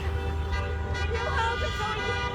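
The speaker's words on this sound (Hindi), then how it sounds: "लोग अपनी गाड़ियों के हॉर्न बजा रहे हैं।" Car horns honking in a street celebration, with several overlapping toots over steady traffic noise and crowd murmur, fairly loud and close.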